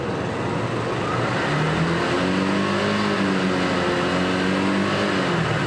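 A Suzuki Gixxer 155 motorcycle engine revs steadily upward toward high RPM, a loud, continuous close-up drone with rising harmonic pitch sweeps and no talking.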